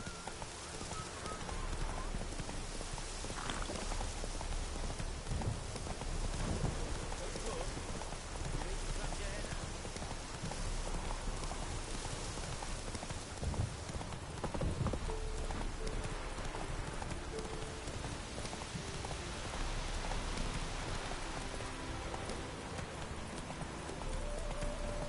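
Horse hooves clip-clop steadily through a ridden journey in a PS4 video game, with a rain-like hiss and ambient game sound running underneath; a brief voice may come in.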